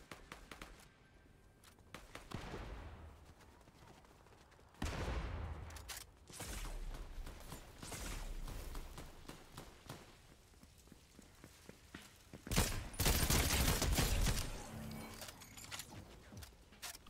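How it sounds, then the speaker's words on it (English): Gunfire in the video game Goat Simulator 3, with scattered bursts of shots at a moderate distance alongside footsteps and movement, growing louder toward the end with a dense volley. "Let's go see where these shots are coming from."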